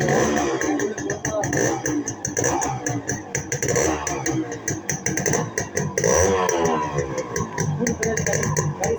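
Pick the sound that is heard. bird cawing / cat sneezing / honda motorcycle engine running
honda motorcycle engine running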